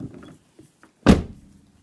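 A modified door catch on a Fiat Punto releasing as the door opens: one sharp, close mechanical clunk with a brief rattling tail, after a few faint soft knocks.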